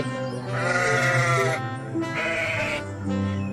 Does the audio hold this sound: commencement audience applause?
no